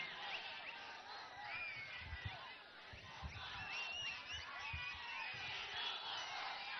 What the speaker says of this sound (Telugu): మీ అరుపులు, మీ కేకలు